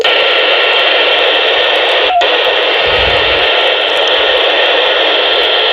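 Baofeng UV-21Pro handheld radio with its squelch opened, giving a steady loud hiss of open-channel static throughout, broken by a brief click and a short low thump.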